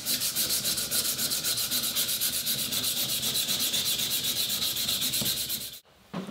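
Sandpaper rubs rhythmically back and forth over a wooden knife handle, a loud, even scratching stroke repeated steadily for several seconds before stopping abruptly, with no talk.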